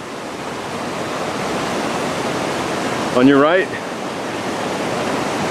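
Rushing water of the San Gabriel River where the North Fork merges after heavy rains, a steady broadband roar filling the whole clip, with a brief spoken phrase partway through.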